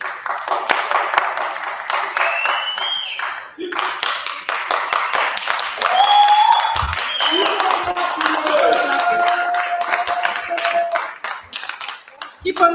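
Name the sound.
audience clapping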